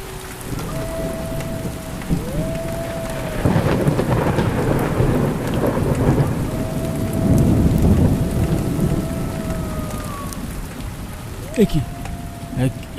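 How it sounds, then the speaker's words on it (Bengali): Heavy downpour with rolling thunder, a continuous loud rain hiss swelling and fading with deep rumbles, while sustained gliding musical tones play over it. "অঝোর বৃষ্টি শুরু হয়ে গেল।"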